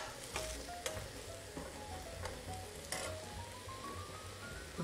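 Paneer cubes fry in a pan for saag paneer, giving a soft, steady sizzle with occasional stirring clicks and pops, fairly quiet and without voices.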